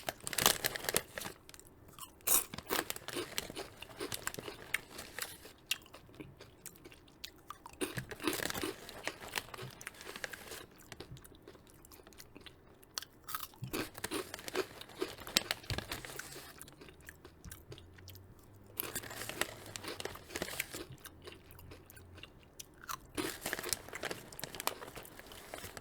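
Someone crunches and chews a snack up close, giving loud repeated bites and crisp chewing in bursts, with brief crinkling of packaging between them and no talking.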